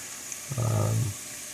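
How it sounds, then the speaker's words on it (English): Poblano peppers roasting and blistering over heat give a brief, close burst of sizzling that swells for about half a second and then fades. "you can really hear them sizzling"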